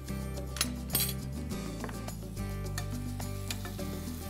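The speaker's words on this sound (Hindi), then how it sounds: "और सौते कर लेते हैं अच्छे से," Quiet sizzling of onion sautéing in a pan with ginger, with occasional light clinks of a utensil stirring, steady and close.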